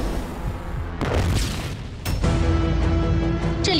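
Explosions in a trailer for the Chinese firefighting TV drama Blue Flame Assault, deep rumbling booms with a sharp blast near the middle over a dense dramatic score, no talk.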